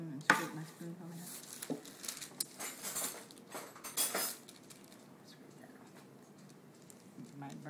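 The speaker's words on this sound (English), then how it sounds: "I'm gonna get another spoon and scrape my spoon from it" A metal spoon scraped against another spoon while making Louisiana pralines, giving a run of close clinks and rasping scrapes that fade toward the end, with people talking throughout.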